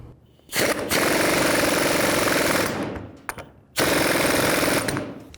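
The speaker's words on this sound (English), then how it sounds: "Put the lock washer on, put the nut on, and tighten this up." A pneumatic impact wrench tightens the nut on a new pitman arm of a 2000–06 GMC Yukon, hammering loudly in two sustained bursts close by with a short pause between them.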